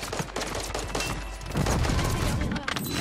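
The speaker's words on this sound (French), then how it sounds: "Il y a mis une grenade de l'autre côté." A grenade blast in Warzone 2.0 on Ashika Island goes off amid a dense, continuous clatter of gunfire, with a louder, fuller burst swelling near the middle of the game soundscape.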